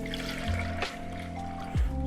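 Milk mixture for homemade ricotta poured into a pot, a brief close trickle and splash over a steady background hum, with one short swell near the end.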